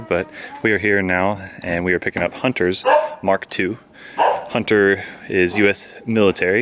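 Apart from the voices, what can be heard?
dog barking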